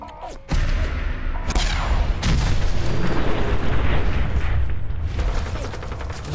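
A suicider enemy blows up in Fallout 4, a loud booming blast with rumbling gunfire-like bursts that continue through the rest of the clip.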